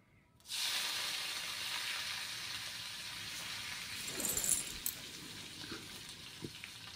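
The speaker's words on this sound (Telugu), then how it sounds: "త్రీ స్పూన్స్ ఆయిల్ అండి. జీలకర్ర, పసుపు, కరివేపాకు" Cumin, turmeric and curry leaves drop into three spoons of hot oil and burst into a loud steady sizzle that starts suddenly and hisses on, with a few soft stirring clicks near the end.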